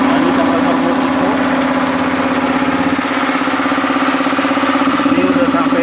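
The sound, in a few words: Multipro 180 volt electric air compressor running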